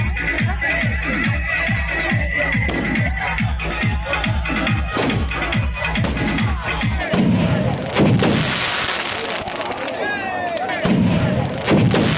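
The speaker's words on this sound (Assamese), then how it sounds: "আৰু এইখিনি চাওক কিমান বোমা ফুটাইছে তাতে" Firecrackers and bombs burst in a rapid, loud barrage during the Ravan burning at a Vijaya Dashami festival in North Guwahati, dense rhythmic blasts giving way to scattered heavier booms amid a crowd.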